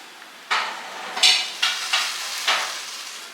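Finely ground white urad dal batter hits a hot pan and sizzles in five or six short, sharp bursts as it is stirred, close up with no talking.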